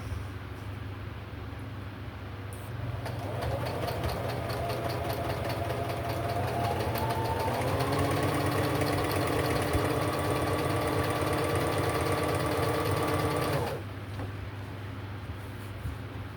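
A sewing machine runs steadily for about ten seconds as it stitches curtain fabric, a close, continuous mechanical whir and rapid needle rattle, with a quieter hum before and after.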